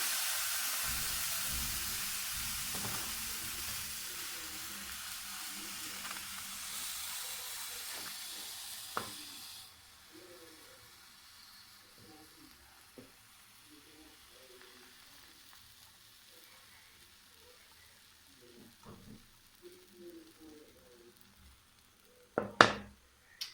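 Crepe batter for beef-stuffed crepes sizzles and hisses in a hot pan, loud and steady for the first ten seconds, then settling into a quieter fry with faint clinks and a few sharp knocks near the end.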